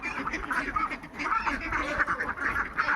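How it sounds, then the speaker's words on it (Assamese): Many Khaki Campbell ducks quack in a noisy, overlapping chorus by a pond, close by and continuous, with a few honking calls mixed in. "চাওক, এইবিলাক বহুত হাঁহ আছে ইয়াত, আৰু পুখুৰীতো আছে"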